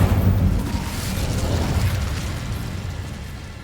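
Casting the Incendio fire spell in Hogwarts Legacy gives a loud burst of flame right at the start, then a whooshing roar that fades slowly over a few seconds.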